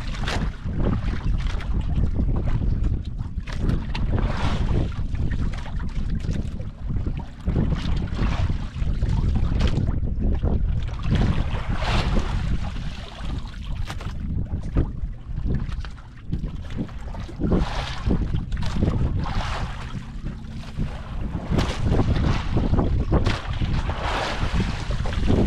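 A boat moving on open water with steady, loud wind buffeting the microphone throughout, a continuous rushing wash with no clear voices.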